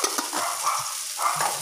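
Cooking oil hitting a hot pan for pansit bato, a soft steady sizzle with faint stirring clinks and scrapes, close and fairly quiet.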